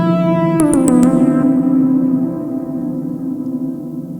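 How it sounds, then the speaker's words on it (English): Convolution Reverb Pro, a Max for Live effect in Ableton, processes a sustained synth tone. Bright, echoing transients ring out through the wash of reverb, and the sound slowly decays without any speech. "So that's a Convolution Reverb Pro."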